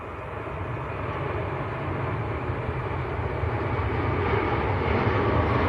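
Aer Lingus Airbus A330 bound for Barbados departing Manchester Airport, a steady broadband engine roar that builds gradually and stays loud throughout, with no voices.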